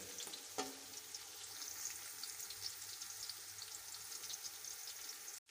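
Whole cumin seeds frying in a pan, giving a quiet, continuous crackling sizzle at close range with one brief knock near the start.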